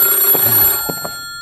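A telephone rings in a short, close electronic burst that cuts off after under a second, followed by faint clicks.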